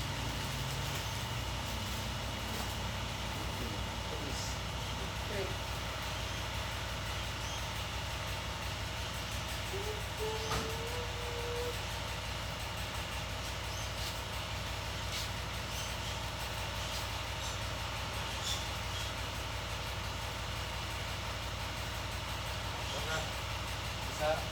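A steady low mechanical rumble of a train carries on throughout, with faint squeals and clanks and some distant voices in the background.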